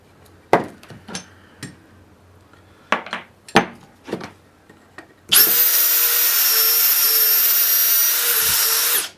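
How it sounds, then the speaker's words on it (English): A power drill bores a hole in a metal trailer part during a restoration. A few sharp clanks and taps come first, then the drill whines loud and steady for several seconds, close up. "You can work your drill bit back and forth to try to make it a little bit bigger"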